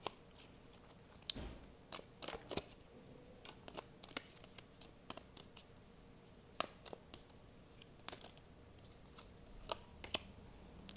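A deck of tarot cards is shuffled by hand during a card reading, giving a quiet run of scattered soft clicks and riffling snaps at irregular intervals over a faint room hiss, with no talking.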